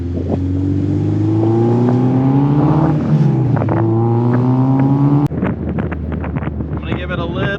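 K20-swapped Honda Civic driving on the street, its engine note rising steadily under light throttle with strong wind buffeting, then an abrupt shift to clattering, rattling mechanical noise near the end.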